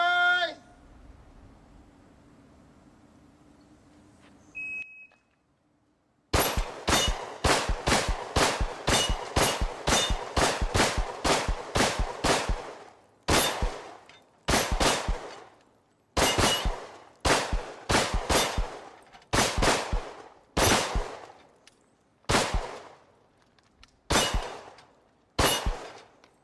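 Rapid gunshots ring against steel plates on a dueling tree target. A burst of sharp cracks with metallic clangs comes first, then shots arrive in clustered bursts separated by short pauses, loud and close outdoors.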